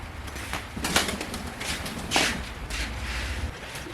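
Pigeons at a loft give soft, repeated cooing calls with brief wing flutters, close by against steady background noise, with no talking.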